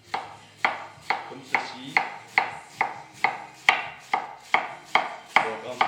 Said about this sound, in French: Je vais commencer par ciseler finement les oignons,